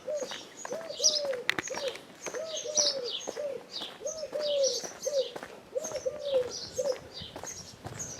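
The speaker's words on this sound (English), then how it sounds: "Good morning, Mr. Wood Pigeon." A wood pigeon coos repeatedly in Winchelsea, a clear rhythmic series of soft hooting phrases close by, with other small birds chirping faintly around it.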